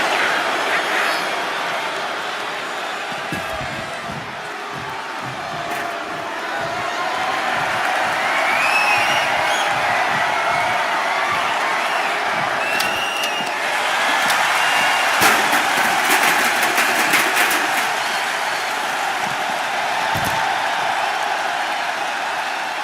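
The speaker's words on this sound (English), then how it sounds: "Look at this crowd. It's insanity in here. Bedlam." A WWE 2K25 arena crowd roars in a steady, loud wash of cheering with occasional sharp slams and whoops rising above it. There is no talk over it.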